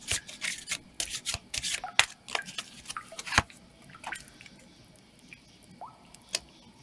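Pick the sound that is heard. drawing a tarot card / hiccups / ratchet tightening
drawing a tarot card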